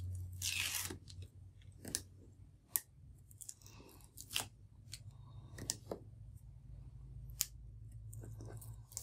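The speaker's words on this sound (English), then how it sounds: "remove the backing from your foam tape" Backing liner peeled off foam tape for a card, giving close, quiet crinkly tearing and crackling bursts in short separate pulls over a low background hum.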